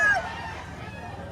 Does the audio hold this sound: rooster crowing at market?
yes